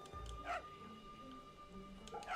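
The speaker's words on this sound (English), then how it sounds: "犬か Doggy!" A dog in the video game Fate/Samurai Remnant gives a couple of short, soft yips and barks, separated by a pause, fairly faint over a quiet game background hum.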